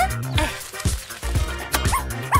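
A puppy at a homemade playground of pipes and hanging old shoes lets out repeated close yips and short high barks, mixed with whiny whimpers, loud and clear with no talking.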